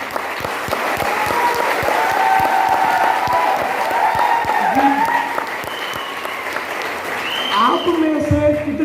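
An audience at a training seminar gives loud, sustained clapping and some cheering, rising again toward the end, with a voice speaking over it.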